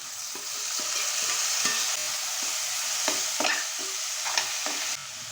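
Tomatoes go into frying onions with ginger-garlic paste for a potato and brinjal pulao, with a steady sizzle in the pan and repeated scraping stirs throughout.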